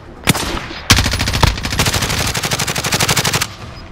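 Video game gunfire: a few sharp single shots open, then a long, rapid automatic burst of evenly spaced, loud, close cracks runs for about two seconds before stopping.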